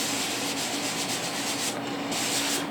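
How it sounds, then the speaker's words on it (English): Steady abrasive sanding of paint on a cracked Porsche 928 pod, a continuous close rubbing scrape with slight rhythmic strokes, held alone and fairly loud without pause. "what I'm trying to do is sand the roughness smooth, but without actually going all the way through the paint"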